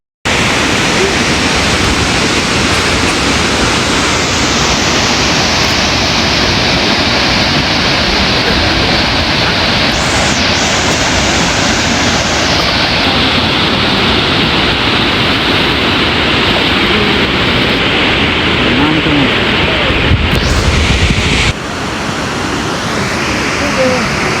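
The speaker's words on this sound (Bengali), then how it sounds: "দেখতে দেখতে জর্নার কাছে চলে আসলাম" Fukuroda waterfall in Japan roars as a steady, loud broadband rush of falling water that fills the whole stretch, with faint voices in the background.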